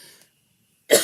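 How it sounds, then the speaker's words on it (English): A single loud cough bursts out near the end of a short, mostly silent stretch from a woman presenting handmade Christmas cards, after a faint earlier sound. "I'm going to take a sip of water because I'm going to cough again."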